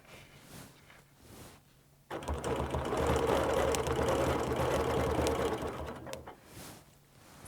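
A sewing machine stitches a quilt along a ruler line to a center point, starting after a quiet moment and running in one sustained, fairly close mechanical whir before slowing to a stop.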